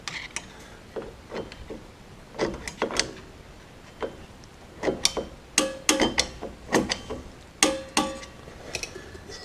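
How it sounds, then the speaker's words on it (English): Brake adjuster screw on a car being wound out, a series of small sharp metallic clicks in an irregular rhythm that grows steadier, close and fairly quiet with no talking. "And a few more clicks of the adjuster."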